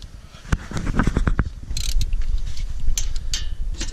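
Ratchet work on the front brake caliper bolts of a 2013 Dodge Challenger R/T, a 3/8 drive wrench giving a run of close mechanical clicks and scrapes with a few sharp knocks, near and fairly loud, no talk.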